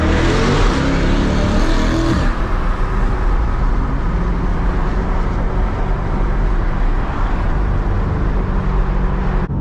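A 2023 Corvette Stingray with the factory Z51 exhaust and no catalytic converters revs hard with a deep, raspy exhaust roar, then settles into a steady rumbling drone, close and continuous.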